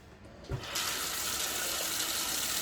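A tap turns on after a brief click and water gushes steadily into a sink, a continuous close rushing that holds to the end.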